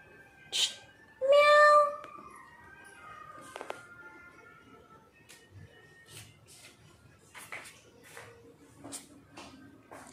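A cat meows outdoors, two clear calls near the start with the second louder and longer, followed by faint shuffling and quieter background sounds.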